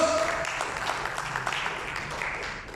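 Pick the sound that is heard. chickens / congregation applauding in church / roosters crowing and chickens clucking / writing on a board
congregation applauding in church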